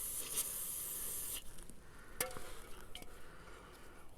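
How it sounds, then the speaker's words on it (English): A short hiss from an aerosol cleaner can spraying car engine bolts during a Citroen C3 Picasso 1.6 HDi service, followed by faint clicks and handling noises. "I'll give that another quick spray down."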